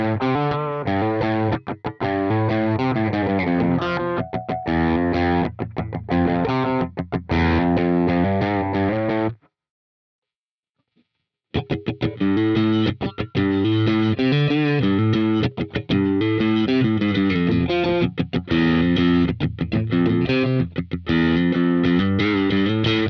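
A Music Man Cutlass RS HSS electric guitar runs through a Horizon Devices Clarity compressor pedal into a Neural DSP Archetype Plini X amp sim, playing a loud, driven, chorus-tinged melodic passage that stops for about two seconds, then resumes.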